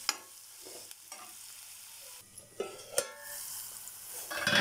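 Ginger garlic paste frying in a pan for an egg and drumstick curry, a soft steady sizzle with scattered scrapes and clicks of stirring, growing louder and brighter toward the end, no voices.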